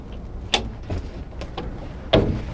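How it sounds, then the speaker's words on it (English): A rear storage compartment on a 2012 Avalon LS2300 pontoon boat is opened, giving a few sharp close clunks and latch clicks spaced over a couple of seconds. "this compartment opens up"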